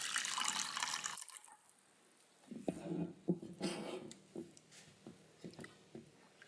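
Hot water poured into a bowl for a blue three-milk gelatin dessert: a bright, steady hiss of running liquid for about a second, then quieter splashing, clinks and stirring sounds close by.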